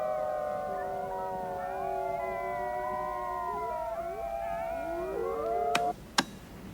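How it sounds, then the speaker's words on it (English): A white wolf alpha male howls in long, wavering tones, joined by other overlapping howls from the pack, close and sustained, ending with two sharp knocks. "The alpha male, to me, has the most distinctive voice, where his halfway through the howl, he changes an octave."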